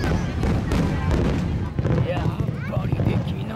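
Fireworks burst at a Japanese summer festival, a dense rumble of booms and crackles under crowd noise and nearby chatter.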